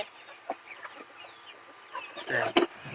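Desi tiger chickens kept in a small backyard coop cluck softly and intermittently, close by, with a sharper burst of squawking toward the end and faint speech in the background.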